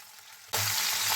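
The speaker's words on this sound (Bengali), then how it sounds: "সর্ষের তেল গরম হয়ে যাওয়ার পরে এবার মাছগুলো আমি একটু জাস্ট এপিট ওপিট করে ভেজে তুলে নেব।" Prawns dropped into hot mustard oil for a quick shallow fry, starting with a short quiet moment and then breaking into a loud, steady, close-up sizzle that runs on without letup.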